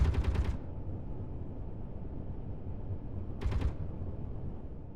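Two short, loud bursts of rapid gunfire from weapons in the video game Space Engineers, one at the start and another about three seconds later, over a steady low background rumble.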